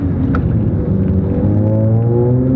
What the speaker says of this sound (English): driving a low car is so annoying sometimes